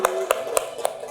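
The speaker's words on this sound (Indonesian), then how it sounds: "Tepuk tangan dulu" Young pupils in a classroom give a short round of hand claps after a pretest, five sharp evenly paced claps, close and moderately loud with a faint hum between them.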